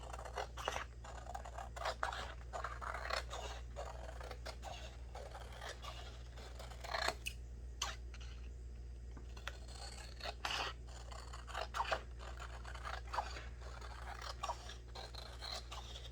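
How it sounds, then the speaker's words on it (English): Close, quiet snipping and scraping of scissors cutting paper triangles for rolled paper beads, a steady series of short crisp cuts over a low hum. "cut out the triangles"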